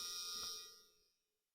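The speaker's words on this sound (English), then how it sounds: "Oh, the door buzzer." A door-open warning buzzer in a 1986 Chevy Squarebody 4x4 pickup gives a faint, high electronic tone that holds briefly, then fades out and stops, alone without talk.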